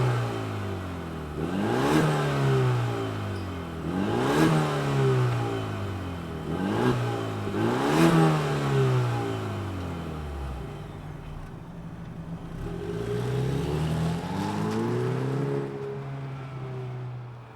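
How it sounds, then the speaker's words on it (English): A 2024 Ford Mustang EcoBoost convertible engine revs repeatedly, four rising-and-falling throttle blips close by, then settles to a steady idle before another softer rev. "let's fire this thing up and hear if it makes any sound"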